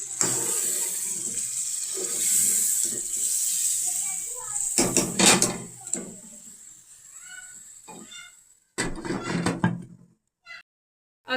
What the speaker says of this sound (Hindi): और अब हमने इसके अंदर डालना पानी।